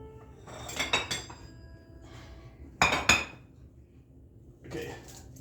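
A metal serving spoon clinks and scrapes against a dish while quiche is served, in three separate bursts of sharp ringing contacts with quiet gaps between them.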